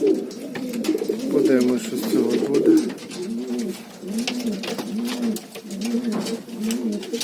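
Pigeons coo repeatedly up close, low rolling calls rising and falling in a steady rhythm over a soft background murmur.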